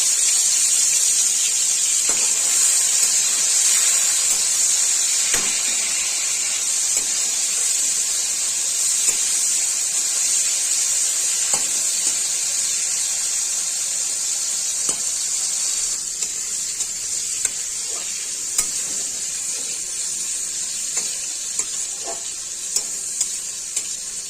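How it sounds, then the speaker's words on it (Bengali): Prawns fry in hot oil, giving a loud, steady sizzle that runs throughout. Scattered clicks and scrapes of stirring cut through it now and then. "এবার তেলের মধ্যে চিংড়ি মাছগুলো ছেড়ে দিলাম।"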